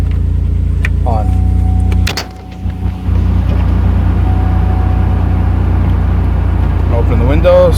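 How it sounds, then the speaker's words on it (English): A 2004–2008 Pontiac Grand Prix idles steadily with a loud low engine drone, as a power window motor whirs briefly near the start and end and a door or panel knocks once midway. "we're going to run the car"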